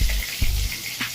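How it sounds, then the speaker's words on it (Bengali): Cumin seeds spluttering in hot oil, a short burst of close sizzling with a couple of soft pops, quiet, with no one talking. "জিরে ফোড়ন দিয়ে দিয়েছি।"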